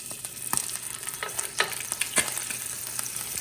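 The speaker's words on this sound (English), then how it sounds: "as you can see, it sizzles and some of that pops a little bit" Steak sizzles in a hot frying pan, a crackling hiss broken by sharp little pops and spits. No talking.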